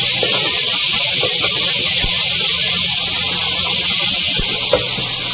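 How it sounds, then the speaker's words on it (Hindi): Garlic ginger paste frying with browned onions in a pan, a steady broad sizzle with a few soft clicks of stirring, constant and fairly loud throughout. "2 खाने की चम्मच लहसुन अदरक का पेस्ट शामिल करके इसको भी हम इसके साथ अच्छी तरह से फ्राई कर लेंगे।"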